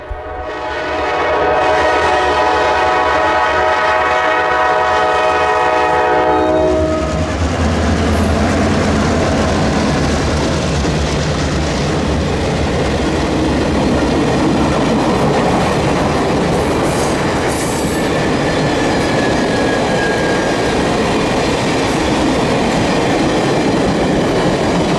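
A KCS-1 business train led by F-unit locomotives passes a Hatton Lane crossing in Hatton, Arkansas. A long horn blast sounds first, and then a loud, steady roar and rumble of cars rolls by up close for the rest of the time.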